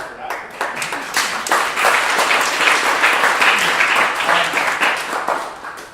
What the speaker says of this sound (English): So, we'll clap her up for that.